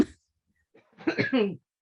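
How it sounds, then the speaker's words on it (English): A brief cough near the start, then a short throaty burst of rough coughing and throat clearing from a person with a cold, close and fairly loud in a quiet room. "I'm sorry about my coughing and sniffling throughout the episode."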